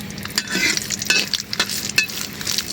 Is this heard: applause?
no